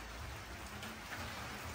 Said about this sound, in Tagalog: Ang problema po ay umuulan.